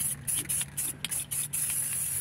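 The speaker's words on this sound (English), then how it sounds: "to spray everything black." Black spray paint hisses from an aerosol can in a series of short bursts with brief pauses between them, close and steady, with no talking.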